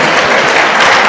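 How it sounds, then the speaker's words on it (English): A brief burst of dense applause from an audience in a committee meeting room, loud and close, with a voice also heard over it. "Can we give ourselves a round of applause?"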